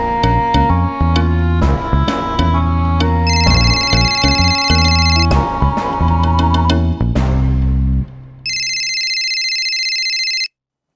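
A telephone rings in bursts of electronic tones, mixed with dense musical sounds, then a final separate ring pattern sounds alone before stopping.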